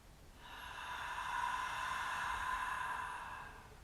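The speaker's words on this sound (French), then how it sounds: "Et grande expire, la bouche ouverte." A deep yoga exhale through an open mouth, one long breathy rush lasting about three seconds, steady and close, with no talking.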